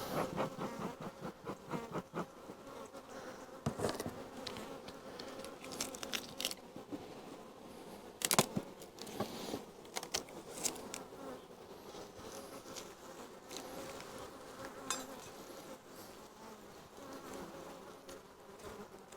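Dense buzzing of many honey bees at a hive entrance, steady and layered, with occasional sharper bursts as individual bees pass near.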